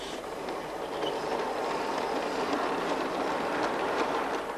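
A model railway train runs along a layout with a steady, continuous rolling rumble and faint clatter, moderately close, with no voices.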